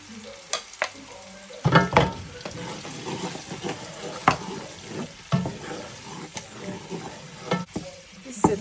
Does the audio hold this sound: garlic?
yes